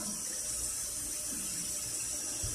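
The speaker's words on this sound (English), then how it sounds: "we're going to make sure that we wash our potatoes really good. Take all the dirt off," Steady hiss of tap water running into a sink as potatoes are rinsed clean of dirt, a continuous even wash with faint bumps underneath.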